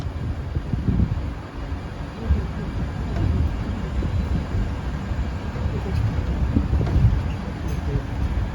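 Steady low rumble of a safari monorail train in motion at a zoo, with constant rolling noise and some wind buffeting the microphone, no distinct voices.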